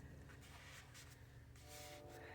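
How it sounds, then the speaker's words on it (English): A steady low rumble of a passing train, continuous and moderately distant, with faint rattling over the top. "I'm sorry if you can hear the train."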